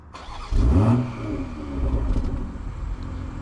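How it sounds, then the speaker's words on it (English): A BMW engine started remotely from an iPhone digital key catches with a brief surge and rev, then settles into a steady, moderately loud idle rumble, heard alone. "It sends a signal to the car, so I can be anywhere and start my car."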